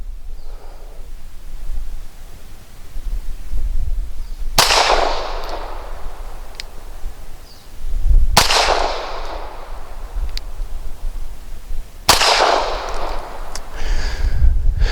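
Three sharp, loud pistol shots from an Arsenal Firearms Strike One ring out at a range, spaced a few seconds apart, each crack followed by a brief decaying echo over faint background noise.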